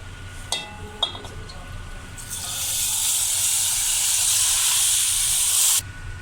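Roasted semolina is tipped into water for sooji halwa, setting off a loud, steady hissing sizzle that swells after a few small clatters and runs for about three seconds before cutting off abruptly.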